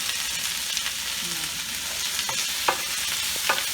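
Collard greens frying in a pan as they are stirred, a steady close sizzle with a few soft scrapes and taps of the spoon, and no voices.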